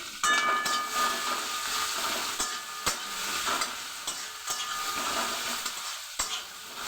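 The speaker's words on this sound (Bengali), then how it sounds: "পেঁয়াজ দিয়ে দিলাম। এবার এরকম করে ভাজবো।" Chopped onion fries in hot oil with a bay leaf, dried red chilli and whole cumin, giving a steady close hiss and sizzle broken by sharp clatters of stirring.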